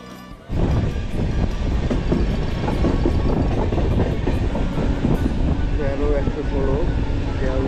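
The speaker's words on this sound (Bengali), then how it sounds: "116 শিয়ালদা হামসাফর এক্সপ্রেস এই রানাঘাট ঢোকার মুখে আগের মুহূর্তে দেখুন রানাঘাট ঢুকে যাচ্ছে।" The Sealdah Humsafar Express runs into Ranaghat station after a brief quiet start, with loud continuous rumbling, rhythmic clickety-clack of wheels over rail joints, and a few squealing tones near the end.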